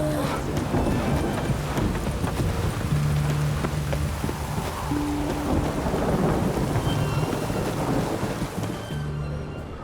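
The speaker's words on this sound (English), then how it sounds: "It's raining." Steady heavy rain pours with rolling thunder rumbling throughout in The Witcher 3 game world, a dense continuous wash with low booming swells and some faint tonal game sounds underneath.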